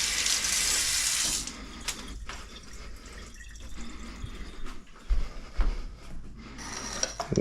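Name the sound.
tap water rinsing tarragon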